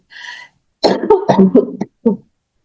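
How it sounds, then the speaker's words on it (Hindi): A short breathy sound, then a burst of several harsh coughs in quick succession, close and loud, ending with one final cough. "खांसी हो रही है आज थोड़ी"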